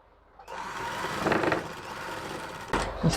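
A sewing machine runs steadily for about two seconds while stitching a men's pajama, its motor whirring at a moderate, even level before stopping.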